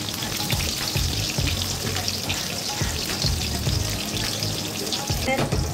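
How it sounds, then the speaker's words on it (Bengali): Vegetables fry in plenty of oil, a dense, loud, continuous bubbling sizzle that stays steady throughout, with faint stirring underneath. "তাড়াতাড়ি করে যাতে হয়ে যায় তাই বেশি করে তেল দিয়ে সব কিছু ভেজে নিচ্ছি"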